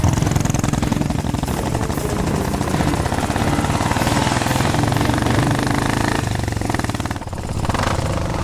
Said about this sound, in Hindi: जल्दी जल्दी चालू कर बाइक।